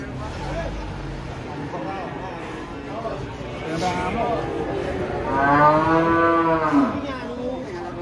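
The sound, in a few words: giant cattle mooing at a livestock market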